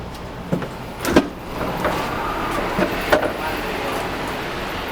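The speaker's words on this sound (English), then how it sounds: "People want to get on, people want to get off, so operate your doors." Doors of an ADL BYD electric bus opening at a bus stop, with a few short clunks and a pneumatic hiss against a steady low cabin hum, mid-distance and moderately loud.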